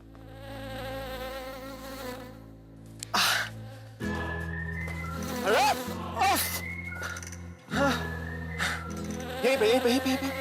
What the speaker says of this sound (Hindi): चलो ठीक है, मैं मक्खी पकड़ता हूं।